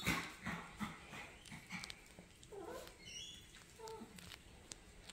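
Three four-week-old puppies making faint whimpering and squeaky yelps, soft and close in a quiet room, with a few brief higher cries partway through.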